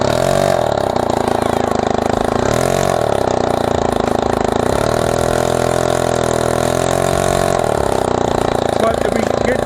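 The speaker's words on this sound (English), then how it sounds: "we're just showing you that the engine's running" A small Chinese 60cc Shug Bear ATV quad engine idles steadily and close by, with a few brief rises in revs over the continuous running note.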